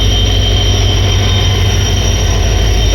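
A passenger train arriving at Sarkhej station in Ahmedabad, with a loud, steady rumble of wheels on rails and a thin, continuous high squeal running throughout.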